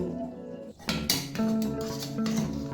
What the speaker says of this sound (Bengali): আমি 7-8 মিনিট পর ঢাকাটা খুলে দিলাম।